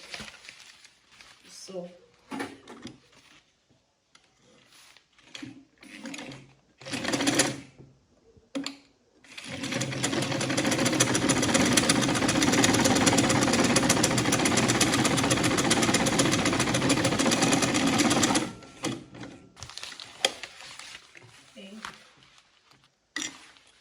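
A sewing machine runs steadily for about nine seconds, stitching an Ankara purse's zip and lining, with speech before and after the stitching.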